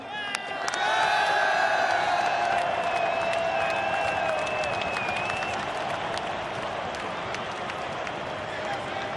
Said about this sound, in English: once more a huge applause for these guys.